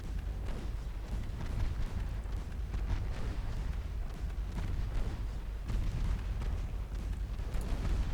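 Naval guns on warships fire shells in an Ultimate Admiral Dreadnoughts sea battle, a continuous deep rumble of overlapping booms and blasts with no clear pauses, fairly loud.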